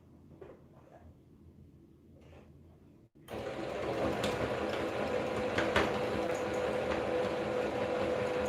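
A sewing machine stitches down a single-folded neckline on an Ankara print flare circle top, starting after a few quiet seconds and then running steadily and close for the rest of the clip.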